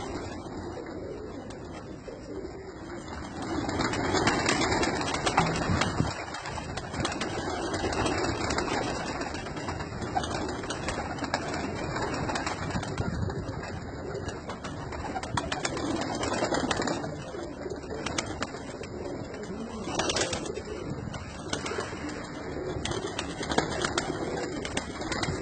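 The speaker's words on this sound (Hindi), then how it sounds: "ये माशाल्लाह थोड़े से कबूतर आपको दिखा रहा हूँ" Pigeons coo softly in a loft of domestic birds, their low murmuring calls blending into a constant bed of background hiss and faint mechanical hum without any speech.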